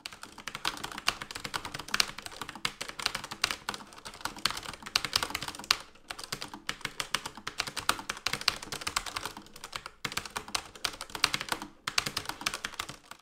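Rapid typing on a Redragon K618 Horus low-profile mechanical keyboard with red switches, a close, busy clatter of keystrokes in uneven bursts with brief pauses, no voices.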